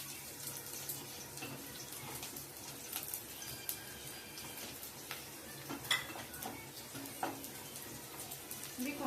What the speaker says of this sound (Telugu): ఇవి కొంచెం లో ఫ్లేమ్లో ఫ్రై చేసుకోవాలండి